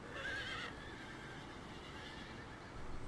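A horse neighs in a Jackbox party game: a loud, quavering whinny with a bright, shaky upper tone in the first half, followed by a steady hiss of background noise. No voices are heard.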